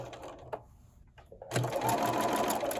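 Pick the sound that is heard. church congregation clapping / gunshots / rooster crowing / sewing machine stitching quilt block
sewing machine stitching quilt block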